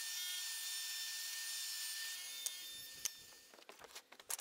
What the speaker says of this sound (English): we make sure to round over the edges using a 1/4 inch round over bit